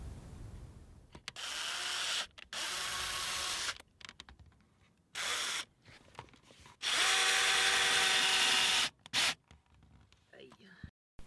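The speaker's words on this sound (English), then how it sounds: "now it's time to start screwing it in" A power drill drives screws into cedar siding on a tiny house, running in several separate bursts of whirring, with one long steady run, and short quiet gaps between the bursts.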